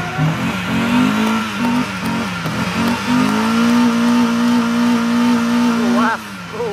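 A car spins its tyres on dirt at a rural speed event on rocky ground, the engine revving hard with rising and falling pitch and a sustained loud wail, while a voice calls out over it.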